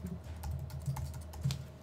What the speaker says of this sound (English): I'm also going to type in my email address.